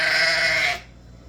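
A sheep bleats on a farm on processing day, a single loud, close, wavering cry that cuts off abruptly and leaves quiet background.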